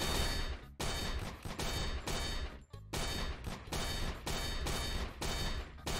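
Rapid gunfire in the aim-training game Aim Lab in practice mode, bursts of loud shots in quick rhythm broken by brief pauses, close and dominant with no talking.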